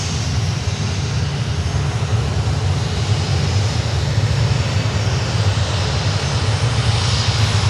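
Steady, loud roar of an Atlas Air Boeing 747 cargo jet at Miami airport, a continuous engine drone filling the whole clip without pause, close by and unbroken.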